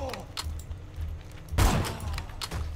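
Gunfire in the video game Borderlands 2, a loud burst of shots near the middle over a steady game soundscape with a few lighter impacts.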